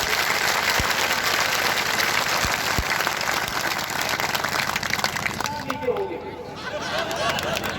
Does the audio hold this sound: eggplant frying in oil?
no